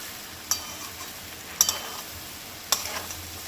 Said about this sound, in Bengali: এইভাবে এবার নাড়তে থাকতে হবে।